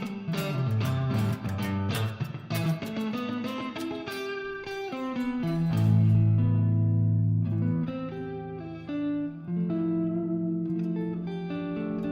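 An electric guitar is strummed cleanly, with crisp repeated chord attacks at first, then sustained ringing chords with reverb-like decay, played close and clear.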